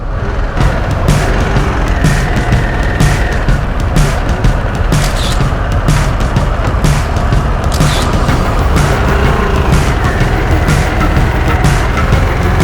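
A 2023 Harley-Davidson Sportster S being ridden, its engine a loud, steady, close roar with wind rush throughout and no talking.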